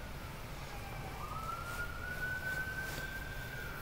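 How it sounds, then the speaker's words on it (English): A distant emergency vehicle siren rises and wails faintly beneath a steady background hum, rising gradually in pitch across the clip. "There's the sirens."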